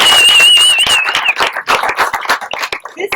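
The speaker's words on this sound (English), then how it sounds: "Clap for yourself." Audience applause at a Women Build 2022 ceremony, a burst of many hands clapping close and loud, thinning into scattered claps over a few seconds, with a whistle tone at the start.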